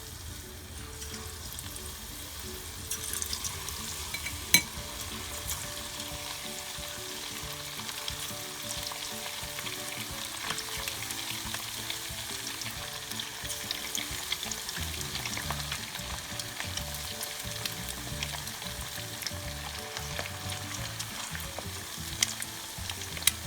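Tilapia fillet frying in hot oil, giving a steady, close sizzle with scattered pops and crackles that runs unbroken throughout, with no voices.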